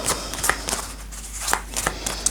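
Tarot cards riffled and set down close by, a few quick crisp shuffling bursts and light slaps spread across a short stretch with no talk.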